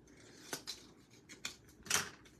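Scissors cutting a paper banana cut-out, giving several quick crisp snips spread over a couple of seconds, close by and fairly soft, with no talking.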